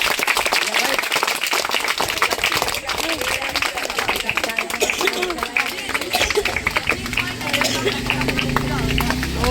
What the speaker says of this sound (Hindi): ताली बजाइए, डबल आदमी का उड़ान दिखा दिया।